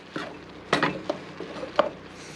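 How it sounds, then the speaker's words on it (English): Moose stew being stirred in a pot: a few light scrapes and clinks of a utensil against the pot, soft and close, with a faint sizzle underneath and no talking. "Give it a quick stir"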